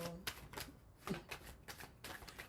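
Tarot cards being shuffled by hand, a run of quick papery riffles and slaps with a brief flutter where several cards spill loose from the deck, close and fairly soft.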